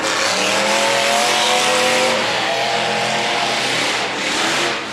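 Race cars thunder past on the final lap of a KDDA dirt-track event, engines roaring loud and continuous with rising and falling revs and a hint of tire scrub, no talk over the pack.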